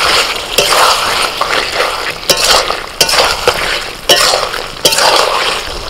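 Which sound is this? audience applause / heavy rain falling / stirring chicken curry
stirring chicken curry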